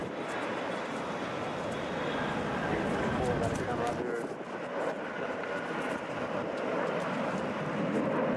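An airplane lifting off at Atlanta's Hartsfield-Jackson airport, a continuous, fairly loud jet rumble and rush that holds steady throughout, with a voice talking over it.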